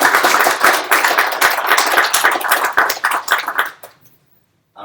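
Audience applause at the close of a design conference talk, dense clapping from a room of listeners that holds for several seconds, then thins out and falls into silence.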